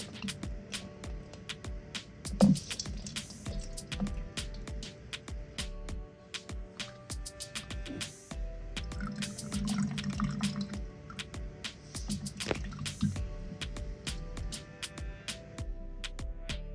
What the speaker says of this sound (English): We're going to use this to squeeze our lemons.